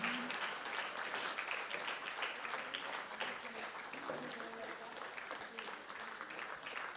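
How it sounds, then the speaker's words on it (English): Faint, distant audience clapping at the She Awards Gambia 2022 ceremony, honoring the event's organizers, a soft continuous patter with voices murmuring underneath. "Please clap for these young, brilliant ladies and gentlemen who've been behind She Awards"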